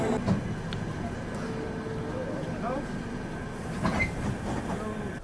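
A Rajdhani Express from Mumbai CSMT to Nizamuddin passes another train in thick fog, with a steady rolling rumble and rail clatter throughout and voices faintly underneath.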